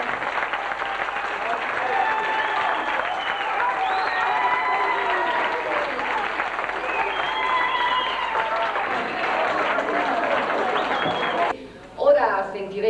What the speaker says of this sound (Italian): Accogliamoli con un lungo e caloroso applauso e invitiamoli a salire